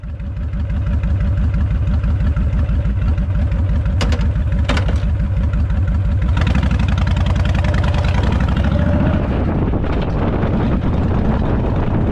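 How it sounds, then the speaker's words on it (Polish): A motorcycle engine runs loud and close, idling with a throbbing pulse, then the revs shift and rise, with a couple of sharp clicks along the way. "Siadam na motocykl i jadę do domu."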